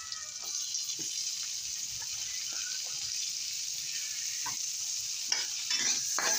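Onions sizzle steadily in a hot pan, a continuous close frying hiss with scattered scraping stirs of a utensil against the pan; no one talks.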